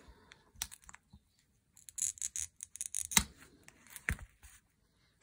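A blade scoring and cutting a leaf shape from a sheet of glass for a stained glass garden mosaic, heard as quiet, scattered scraping and clicking strokes with short pauses between them.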